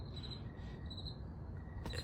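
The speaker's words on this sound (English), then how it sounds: "the background noise, the crickets, is how it left me" Crickets chirp in the background in faint, repeated high trills, with a steady low hum of ambient noise underneath.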